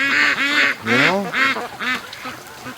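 Several loud, nasal quacks from free-range ducks at a lake in quick succession, close and overlapping, with a few softer calls trailing off.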